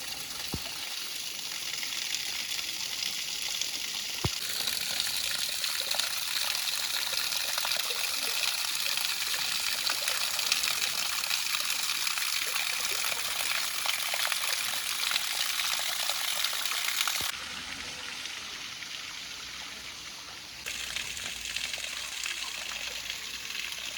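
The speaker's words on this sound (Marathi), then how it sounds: "नदीच्या तोंडामधून बघा कसं पाणी येतं" River water flows out of a river mouth in a soft, continuous trickling gush, fairly quiet and steady, with a slight change in texture toward the end and no speech.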